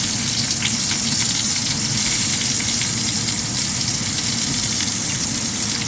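Onion sautéing in hot frying oil for tuna sarciado, a loud, steady, close sizzle that runs without a break throughout.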